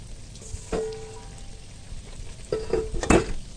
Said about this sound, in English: we're going to start frying our chin chin